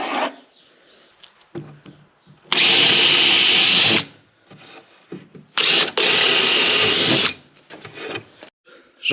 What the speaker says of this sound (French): J'en profite pour faire quelques gros trous pour après pouvoir passer un sando ou quelque chose